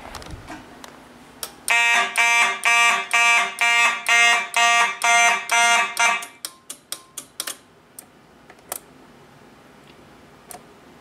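An i3 smoke detector test sets off a fire alarm that sounds as a loud, close series of about ten rhythmic electronic horn bursts, followed by quicker, fading pulses and a few scattered clicks.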